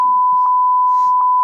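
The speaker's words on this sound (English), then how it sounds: "That's all getting beeped out." Steady censor bleeps, a pure electronic tone sounding in several short bursts that cover spoken words, loud and close with only faint muffled voice fragments between them.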